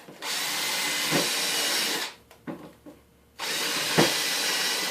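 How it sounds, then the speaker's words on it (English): A power drill pre-drills into plywood on the underside of a window install, two long steady whining runs separated by a brief stop with short bursts and small knocks, loud and close. "the reason I'm pre-drilling is because it'll suck this plywood up to the other plywood way better if you pre-drill it"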